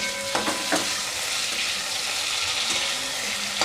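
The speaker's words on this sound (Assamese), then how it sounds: "আলুটো তেনেধৰণে অলপ ফ্ৰাই কৰিব" Potato pieces fry in a pan for chicken curry, a steady close sizzle with occasional stirring clatter and scrapes, no talking.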